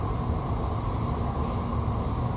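Doha Metro train cruising at roughly 70 km/h, a steady low rumble and rolling hum heard from inside the carriage, continuous with no talk.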